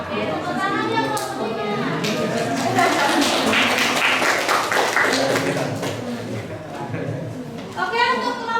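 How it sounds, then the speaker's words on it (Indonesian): Students in a mathematics classroom clap their hands together in a steady patter of applause close to the listener, while a teacher and children talk over it. "Oke, tepuk tangan ya buat"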